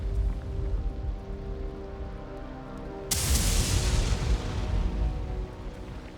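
Rain in the video game Tyranny, falling steadily with a soft hiss that suddenly swells into a louder, brighter downpour halfway through.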